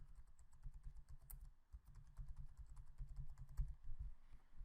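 Fingers tap out a password on a computer keyboard, a run of quick, soft, close keystrokes with brief pauses between bursts.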